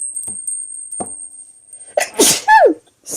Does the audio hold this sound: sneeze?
yes